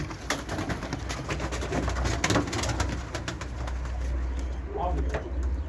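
Pigeons coo softly and repeatedly in a small bird loft, close but quiet, mixed with faint rustling and scattered clicks while people talk nearby.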